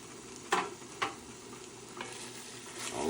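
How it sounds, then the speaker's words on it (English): A spoon stirs tomato sauce for lasagna in a hot pan, giving a few sharp scrapes, roughly half a second apart and then spaced out, over a steady close sizzle. "stir, stir. This is already getting darker, so I think it's about time to add the rest of the tomato."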